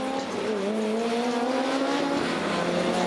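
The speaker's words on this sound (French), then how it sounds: "Les voitures qui viennent s'immobiliser sur la grille de départ" Touring race cars at Estoril rolling onto the starting grid, a steady engine drone with a slowly rising pitch from several cars nearby.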